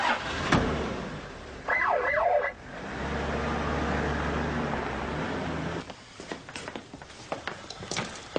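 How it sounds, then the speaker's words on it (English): A police car siren gives a short wailing burst of a few rising and falling sweeps, then cuts off. A low engine idle and scattered knocks and movement follow. "Can I do the siren? Just a little one."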